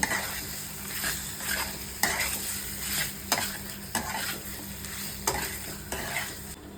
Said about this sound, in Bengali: এবার আমি খুব ভালো করে কষিয়ে নেব।